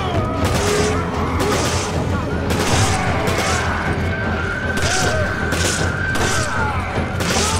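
Gunfire in the Resident Evil 5 video game comes as a series of loud, sharp shots spaced about a second apart over steady game sound, with a player talking over it.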